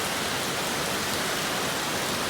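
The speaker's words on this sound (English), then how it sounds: "This is steady rain." Steady heavy rain falls in a Philippine jungle, a dense, even hiss of countless drops with no breaks, fairly loud and close, with no voices.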